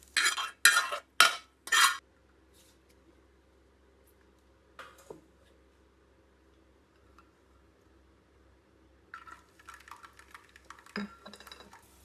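Dry red chilies, coriander seeds, cumin, shahjeera and whole spices are stirred as they roast in a pan for chicken karampodi, with a few sharp rattling scrapes at first, then long near-silence and scattered lighter stirring later, close.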